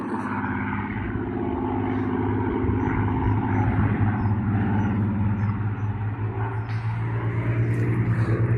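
Avro Lancaster bomber passing overhead, a loud, steady propeller drone with deep pulsing engine harmonics that holds for the whole stretch, no talking.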